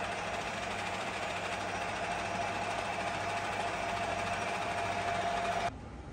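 A TOS FO-6 gear hobbing machine runs at its maximum 190 RPM with a steady, even hum and a faint whir and rattle, constant throughout before dropping slightly at the very end.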